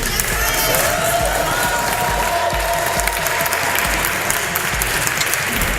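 Crowd at a 2018 Pennsylvania political rally applauds loudly and continuously for nearly six seconds, a thick steady wash of clapping with a few voices mixed in.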